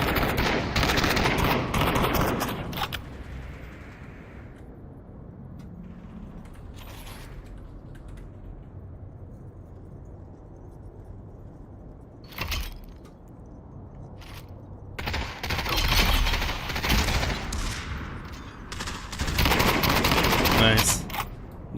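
Rapid gunfire rattles in Population: One, a multiplayer VR battle royale tournament match, with loud bursts at the start and end and quieter shooting between, while a commentator talks over the action.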